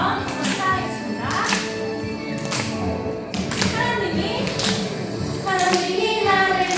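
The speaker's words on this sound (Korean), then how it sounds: "자, 우리 더 힘차게 박수 치면서 찬양하겠습니다." Children clapping along while singing praise at a Sunday children's worship service, rhythmic claps and taps under a sung melody with a leader's voice, steady and fairly close.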